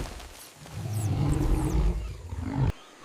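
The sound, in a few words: howler monkey alarm call roar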